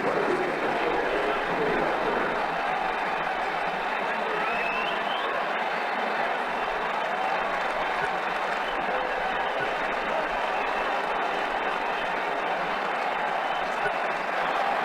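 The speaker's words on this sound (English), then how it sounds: "He's getting a polite round of applause as he makes his way to the pavilion." Steady crowd applause rolls on without a break in Ashes Cricket 2009 as a batsman walks off to the pavilion, a dense, even wash of clapping at constant loudness.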